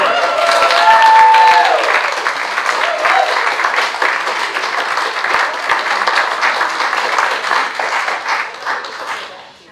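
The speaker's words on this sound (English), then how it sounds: "One more round of applause." An audience at a school Wall of Honor ceremony breaks into sustained applause, dense and loud for nearly ten seconds with a few voices mixed in, then tapering off at the end.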